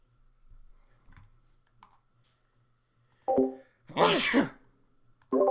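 A single loud sneeze close to the microphone, preceded by a sharp inhaled catch and followed by a brief vocal sound, in an otherwise quiet room with faint clicks.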